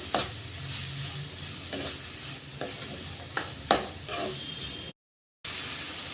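Soft, softened native tomatoes frying in a pan for hotel-style masala tomato bath, with a steady low sizzle broken by several sharp scraping stirs, close and moderately quiet, and a brief dropout near the end.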